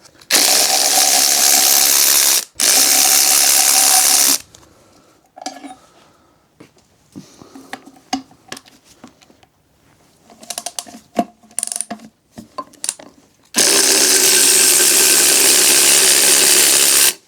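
Loud, harsh mechanical whirring bursts at the start and end frame a stretch of irregular metallic clicking and clanking, like a ratchet undoing engine mount bolts on a Golf GTI.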